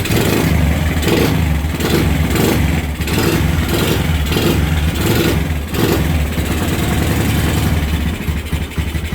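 A Suzuki Thunder motorcycle engine, tested after stalling problems and a tightened spark plug, runs steadily at idle with a loud, close, rhythmic pulsing chug and no talk.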